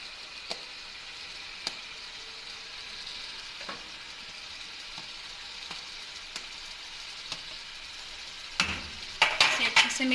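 Fried vegetables are stirred into chicken and peas in a pan over a low, steady sizzle with occasional sharp utensil taps, ending in a louder flurry of clattering stirs.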